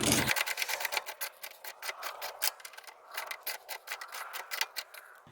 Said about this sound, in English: now I can get my wrench on the nut and my ratchet on the bolt and crank them down